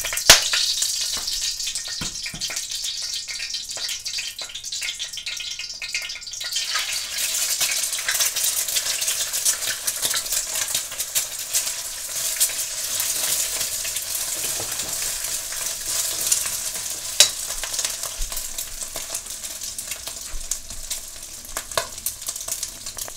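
Eggplant stir-fries in oil in a wok. After a few quieter seconds with light clatter, a loud, steady sizzle takes over and continues throughout, broken by occasional scrapes and knocks of stirring.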